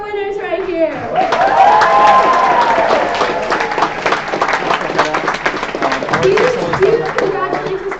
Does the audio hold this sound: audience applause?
yes